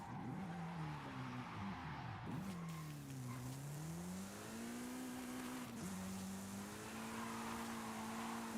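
A car in Forza Horizon 5 is slung around hard, its engine whining and revving up and down as the tyres squeal and skid continuously. The sound is loud and close, with no talking.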